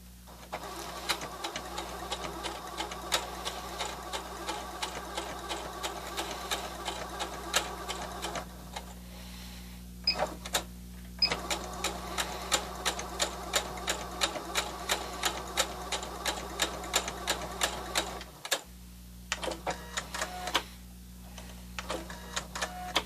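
A sewing machine stitches a turkey pin cushion in fast rhythmic bursts of needle clatter, pausing briefly twice before running on, close and steady.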